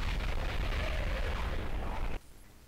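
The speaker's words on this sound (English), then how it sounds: "A massive explosion of unknown origin has devastated the city" A massive explosion in the shooter game F.E.A.R. roars as a loud, sustained broadband rumble for about two seconds, then cuts off abruptly to a faint low tail.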